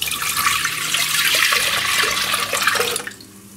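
Water pouring steadily into a container to make a brine for curing pork shoulder, a bright continuous splashing rush that stops abruptly near the end.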